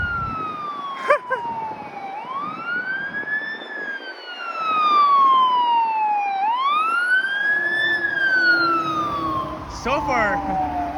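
Another fire truck rolls south along Yonge Street in Toronto, its siren rising and falling in slow wails over traffic noise, growing louder as it nears, with a brief horn-like blast near the end.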